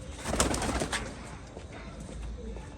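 A pigeon coos close by amid rustling and background noise, its soft calls strongest early on before fading under a steady hum.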